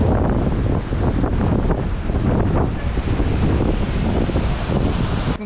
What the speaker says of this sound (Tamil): நேற்றை விட இன்னைக்கு காற்றும் கடலோட சீற்றமும் கொஞ்சம் அதிகமாகவே இருக்கு